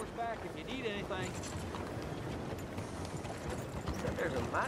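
Horse hooves clip-clopping in the video game Red Dead Redemption 2, a soft, steady rhythm set in a busy outdoor ambience with someone talking over it.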